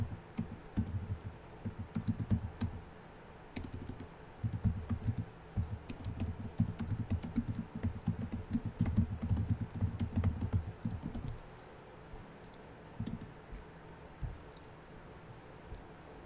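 Rapid clicking of computer keyboard keys being typed on, in steady bursts across most of the stretch, close and moderately loud, thinning out toward the end with only scattered keystrokes.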